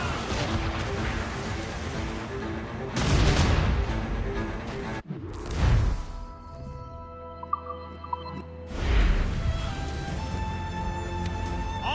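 Cannon fire in a naval battle in Assassin's Creed Rogue: heavy booming volleys roll out in several loud bursts over ship and sea ambience, with game voices shouting orders between them.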